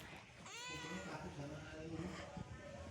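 A cat lets out a long, rising-and-falling meow near the start, with people talking underneath and a faint second cry later.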